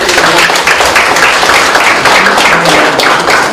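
Dense, steady applause from an audience at a health-care lecture event honoring a hospital director, loud and continuous throughout with no break.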